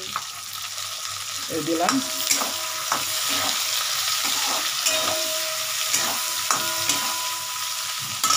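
Chopped tomato chunks go into a hot frying pan and are stirred, giving a steady loud sizzle with scraping stir strokes throughout, close up, and a brief spoken remark.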